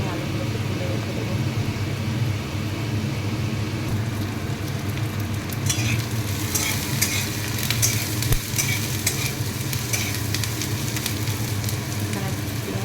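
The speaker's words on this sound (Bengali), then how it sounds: "দেখো আলুগুলো আমার লাল লাল করে ভাজা হয়ে গেছে" Potatoes frying in oil in a pan make a continuous, close sizzle, with sharper crackling and spattering bursts in the second half and a voice heard over it.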